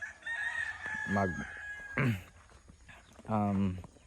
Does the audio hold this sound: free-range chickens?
yes